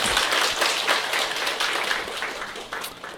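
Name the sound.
audience applause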